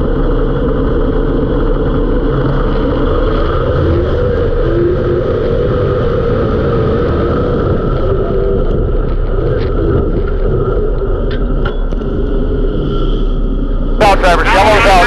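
Race cars run a 10-lap heat race at a speedway, their engines a loud continuous roar blended together at a distance, with a brief sharp burst near the end.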